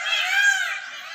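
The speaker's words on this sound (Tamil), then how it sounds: "மயில் சத்தம் போடுது." A peacock gives a loud, wavering, high-pitched wail lasting about a second, heard in the open grounds of Bharathiyar's home.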